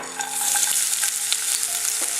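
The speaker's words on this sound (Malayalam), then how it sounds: "ഇനി ഇതിലേക്ക് നമുക്ക് സവാള ഇട്ട് കൊടുക്കാം" Sliced onions frying in hot oil for a Kochi-style meat rice dish make a dense, close sizzle, with small stirring scrapes and pops scattered throughout.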